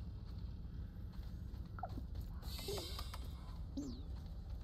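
A bird calls in the Grounded video game, faint gobbling, turkey-like squawks over a steady low ambient rumble, a few short calls spaced a second or so apart.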